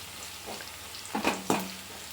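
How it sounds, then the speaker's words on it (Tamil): Cauliflower frying in hot oil makes a soft, close sizzle, broken by two or three brief scraping stirs in quick succession. "பாருங்கள் ஃப்ரெண்ட்ஸ், பொரிஞ்சிட்டு நல்லா பொரிஞ்சிருக்கு"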